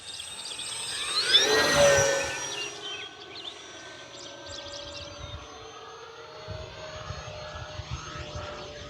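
An electric RC model F4U-4 Corsair, a 1.1 m scale warbird, makes a low pass down the runway with a rising and fading motor whine that is loudest near the start, then drops to quieter outdoor background.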